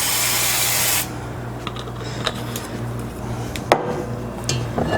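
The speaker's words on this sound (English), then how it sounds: "So we are going to spray a pan" A can of cooking spray hisses into a baking pan in one loud, close burst lasting about a second, then leaves quiet kitchen clatter and small knocks.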